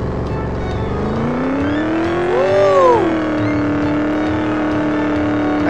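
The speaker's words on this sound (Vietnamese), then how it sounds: "Tiếng động cơ nghe sướng thế nhờ" A car engine in the mobile driving game Rebaixados Elite Brasil drones steadily, then revs up sharply once around the middle before settling back to a loud, even hum.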